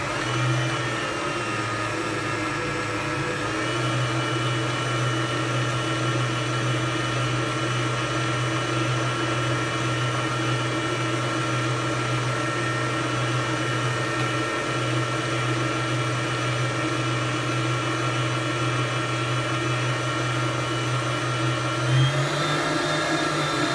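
Electric mixer beating cake batter of eggs, sugar, water and oil, running as a continuous, steady, loud whine and hum close by for the whole stretch with no talking.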